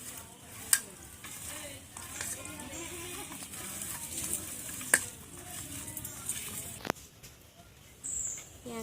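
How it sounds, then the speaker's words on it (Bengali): Chili powder being stirred into food frying in a pan, with steady sizzling and a spatula scraping and clinking against the pan now and then. "একটু লঙ্কার গুঁড়ো দিয়ে দিলাম, দিয়ে আমি এবার মেশাচ্ছি"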